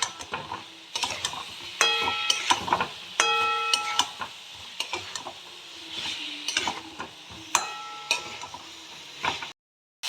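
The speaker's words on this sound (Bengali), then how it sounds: "এবার আমি যে কপি আলু ভেজে রেখেছিলাম সেগুলো দিয়ে দিলাম। মশলার সাথে এগুলো একটু কষিয়ে নেব।" Fried cauliflower and potato are stir-fried with spices in a pan. A low sizzle runs under repeated sharp clanks and scrapes of a spatula, in irregular bursts, with no talking.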